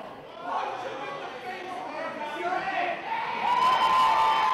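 A beer-drinking crowd at an independent wrestling show in Windsor cheers and shouts, a busy wash of many voices that swells louder toward the end, with someone talking over it.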